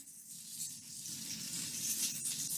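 Garlic sizzling in butter in a pan for a Korean bowl sauce: a steady, soft, close hiss with faint crackle throughout, and no voices.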